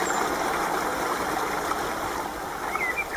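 River water flowing steadily near a stone bridge, a continuous close rushing wash with no voices.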